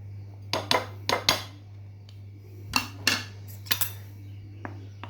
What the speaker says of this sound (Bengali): এটাকে মিক্সড করে নেব।